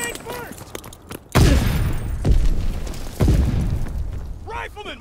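Grenade blasts in Call of Duty: WWII multiplayer Team Deathmatch on Sainte Marie du Mont, three heavy booms a second or so apart, each with a rumbling tail, with voices shouting around them.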